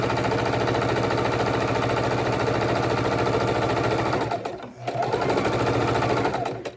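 A domestic sewing machine stitches a quilted raw-edge appliqué table runner with a continuous close, rapid mechanical chatter that briefly slows and pauses before running at full speed again.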